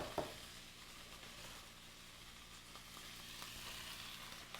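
Thinly sliced Napa cabbage cooking in a pan for ankake yakisoba, a steady soft sizzle with a brief clatter at the start, close and continuous with no talking.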